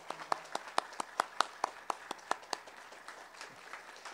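Scattered, rhythmic hand claps from a church congregation at a Sunday service, a dozen distinct claps over a soft bed of applause that tapers off near the end.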